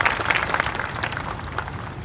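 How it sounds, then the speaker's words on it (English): Audience applause greeting a Pearl Harbor survivor at a parade speech, a steady wash of clapping from a gathered crowd at moderate level throughout, with no speech over it. "Give him a nice round of applause."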